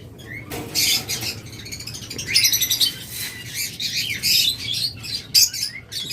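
A flock of pet lovebirds and cockatiels chirps and tweets busily nearby, with overlapping bursts of high, rapid calls.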